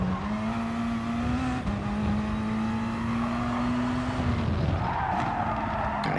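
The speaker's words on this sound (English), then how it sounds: "I had to let off the throttle just to allow the car to turn" Race car in Gran Turismo Sport at Fuji, a steady engine drone holding pitch, dipping as the throttle lifts, then tire scrub and a shifting engine note through the corner, loud and continuous with no talk.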